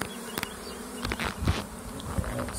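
Honeybees buzz on a hive frame during an inspection, a steady soft hum with a few brief louder passes near the ear, no talking.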